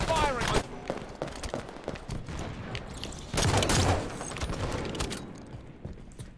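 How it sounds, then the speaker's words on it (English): Gunfire in a Halo 5 match, with repeated sharp shots and short bursts scattered through a busy battle, one heavy stretch in the middle, as voices talk over the action. "Enemy firing."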